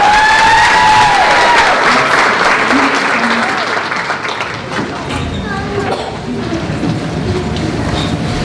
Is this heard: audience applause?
yes